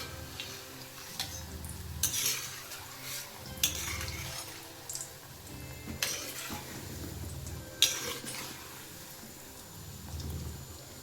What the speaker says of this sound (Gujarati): એ જ રીતે આપણે બીજા પણ તરી લેવાના છે.